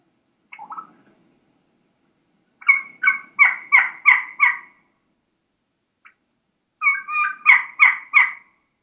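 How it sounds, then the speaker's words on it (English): A wild turkey hen yelps in two rhythmic series of four to five raspy calls, preceded by a single short note, clear and fairly close. "just listen to this hen get after it here"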